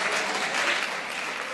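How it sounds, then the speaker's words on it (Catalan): Studio audience at a Catalan spelling quiz show breaks into steady, full applause, a dense wash of many hands clapping at even loudness throughout. "Fora aplaudiment també per ella."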